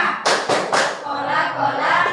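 Three sharp, loud hand claps in quick even rhythm from a group in a classroom playing the Tepuk Coca-Cola clapping game, followed by voices chanting.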